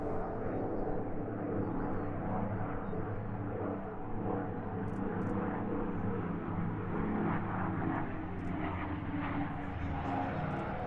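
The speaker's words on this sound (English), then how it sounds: "And another pair of prop aircraft now, this time two Boeing Stearmans of the Aero Superbatics Wingwalkers." Two Boeing Stearman propeller biplanes of a wingwalking team fly at an international air display in Jersey, their engines a steady, loud rumbling drone that holds throughout with no pauses.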